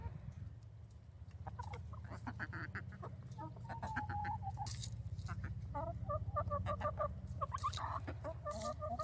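Backyard hens clucking and chattering around an enrichment toy, a steady busy flock close by with overlapping calls and soft scratching, no talk.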